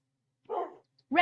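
A Minecraft wolf in the video game gives two short, high-pitched barks about half a second apart, fairly close and clear against silence.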